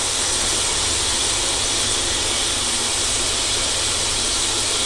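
Fried onion and ginger-garlic paste sizzles with added spices in a pan, giving a steady, loud, even hiss that carries unbroken from start to finish.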